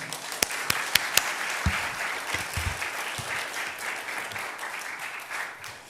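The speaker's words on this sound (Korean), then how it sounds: "우리가 큰 박수로 환영하면 좋을 것 같습니다" A church congregation gives a sustained wash of dense applause to welcome missionaries at a night prayer meeting, with a few sharp nearby claps standing out at the start and low voices murmuring underneath.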